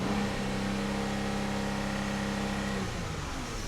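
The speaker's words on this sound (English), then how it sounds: "you can burp it by revving it" A Pentastar car engine being revved to burp air from its cooling system after thermostat work, a steady loud engine drone held for nearly three seconds before easing off, with no talking.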